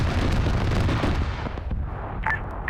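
Grenade blasts in a military shooter game as IEDs are set off, a loud close roar of explosions and rumbling fire that fades over a couple of seconds, with a brief crack near the end.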